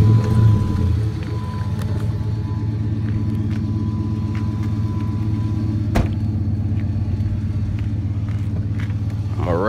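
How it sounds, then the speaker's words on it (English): A Dodge Charger SRT8 engine idles with a deep, steady exhaust rumble, loud and close, after a brief heavier burst at the start. "I'm gonna go ahead and start the car up so y'all can get a good sound of the exhaust"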